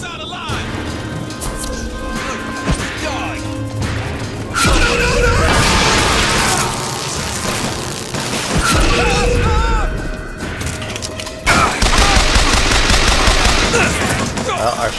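Shotgun blasts and chaotic combat in Bioshock Infinite, with repeated loud booming shots, crashes and mechanical clatter in dense bursts throughout, with a voice talking underneath.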